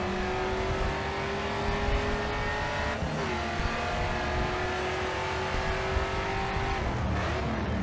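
Race cars in Grid 2 at a race start, engines droning loudly and continuously with rising pitch and shift changes, several cars blending into one near, dense roar.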